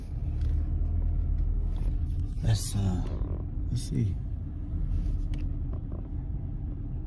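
A car drives past at night outside a house; its rumble swells and fades under a quiet, close voice, with a couple of brief sharper sounds along the way.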